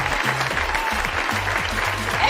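Rhythmic clapping over music with a thumping low bassline, claps fairly close and prominent while the backing beat plays along.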